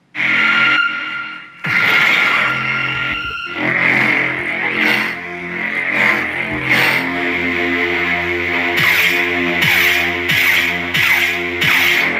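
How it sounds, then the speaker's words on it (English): A Wattos Junkyard Lasermaster lightsaber hilt with a custom removable chassis plays loud, close effects: an ignition, then a steady electronic hum with swells and swooshes, and a series of sharp clash-like bursts near the end. "Man, this is a good sounding hilt."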